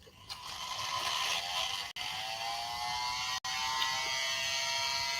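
Handheld hair dryer blowing on wet acrylic paint of a snowy cabin scene, a steady high whirring roar held for several seconds with two brief cut-outs.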